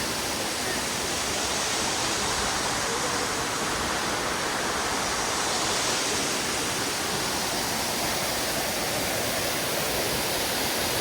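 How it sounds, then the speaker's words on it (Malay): The level 6 waterfall of Sungai Kanching near Rawang, Selangor, roars as a dense, unbroken rush of falling water, loud and constant throughout with no pauses. "Yang ni air terjun Aras 6"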